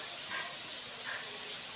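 Ginger garlic paste, tomatoes and green chilies fry in a pot, giving a steady close hiss and sizzle with slight rising swells of spatter, no voices.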